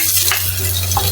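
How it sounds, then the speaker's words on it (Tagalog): Ginger and garlic sautéing in a pan for sinigang na bangus, with a steady loud sizzle of frying and occasional stirring scrapes close up, no voices. "Una ko pong igisa guys ay luya."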